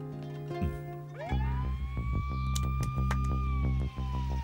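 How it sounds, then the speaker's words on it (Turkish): An ambulance siren sweeps up and holds, loud and close over a steady engine drone, after a brief low hum at the start. "Ambulans sesi bu ya."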